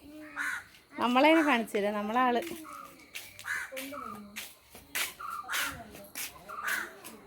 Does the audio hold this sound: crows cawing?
yes